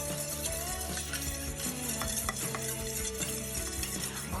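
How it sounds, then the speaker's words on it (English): Ground turkey burger meat is mixed with pepper and sautéed onions and garlic, giving soft, steady stirring and squishing sounds, partly masked by continuous tonal music throughout. "now we're going to give this a little mix"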